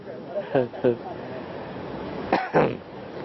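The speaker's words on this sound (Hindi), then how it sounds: "ये खांसी तब तक चलती रहेगी क्या?" Two short coughs come close together near the start, then two more a couple of seconds later, loud and near against a low background hum.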